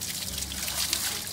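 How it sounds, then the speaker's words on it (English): Water trickles steadily from the drain of an Airstream RV hot water tank as the chlorinated solution empties out, a soft continuous pour heard close up with no other sounds. "we're gonna drain our hot water tank of the chlorinated solution"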